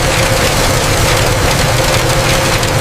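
An industrial coffee hulling machine running at about 75 RPM in a processing factory, giving a loud, steady, dense mechanical roar with a low hum that never lets up.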